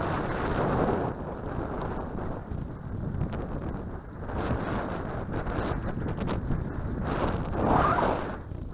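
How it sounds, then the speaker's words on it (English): Wind blows over a sailing boat on the water, giving a continuous, rumbling gusting roar with surges and lulls, heavy against the microphone. "the wind's just got up more"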